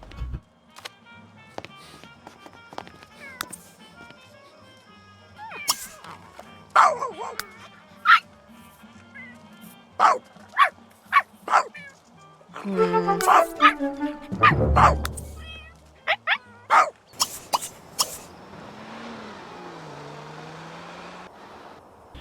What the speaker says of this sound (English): Let's see if we can say hello to this other dog.